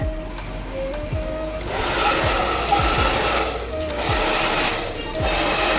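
A hair dryer blows steadily over hair just after a haircut, a continuous airy whoosh that swells louder midway and stays close throughout, with faint rubbing and handling noises underneath.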